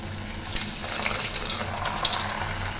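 Snack dough frying in hot oil in a kadai, a dense, steady hiss and bubbling that holds evenly throughout, close and fairly loud with no talking.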